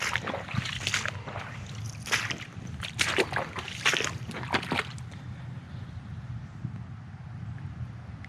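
Water sloshes and splashes in irregular bursts as someone wades through shallow swamp water near a lake, fairly close, then fades to a quieter, steady background.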